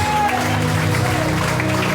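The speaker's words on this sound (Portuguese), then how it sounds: "Você pode aplaudir Jesus?" A church congregation applauds during a Wednesday worship service, a loud, dense wash of clapping from a crowd, with voices mixed in.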